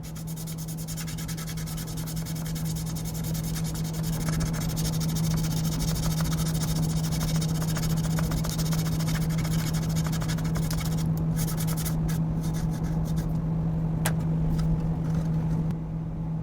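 Model putty being sanded with 800 grit sandpaper gives a steady, close scratchy rasp that runs without a break over a low constant hum.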